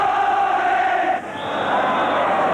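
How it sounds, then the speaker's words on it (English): A large, noisy football crowd fills Celtic Park during a 1981 Scottish Cup semi-final between Morton and Rangers, a loud steady roar with a brief dip before swelling again. "A substantial, noisy crowd inside Celtic Park."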